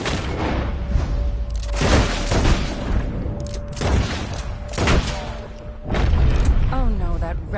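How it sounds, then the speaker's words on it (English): Gunfire in a video game, several heavy booming shots spaced a second or so apart, loud and close, each with a short echoing tail, with game music and other sounds underneath. "I'll shoot a few more this time"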